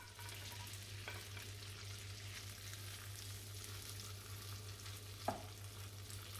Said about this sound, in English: I've heated the oil and butter in a frying pan, and I'm sliding the gnocchi into the pan